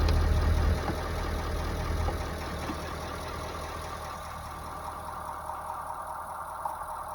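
A Ford E450 with a 7.3L Powerstroke diesel engine idles steadily with a low, even rumble that stays constant, somewhat louder at the start and holding near throughout.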